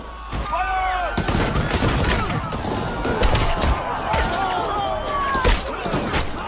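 Gunfire erupts in a dense, chaotic fusillade of overlapping shots and crashes, loud and continuous as if fired into a crowd during a massacre, mixed with other tumult.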